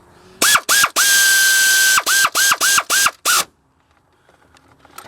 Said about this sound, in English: Now I just gotta go through here and tighten them all down.